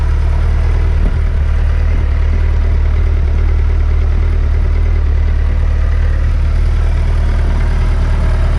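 A 2020 Suzuki Hayabusa in burgundy red, essentially stock with a fender eliminator, idles after a cold start, its steady low engine rumble loud and close throughout.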